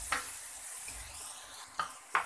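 Whole spices and a bay leaf sizzling in hot oil in a pan, a soft steady crackle with a few sharper bursts of spitting near the end, no voices.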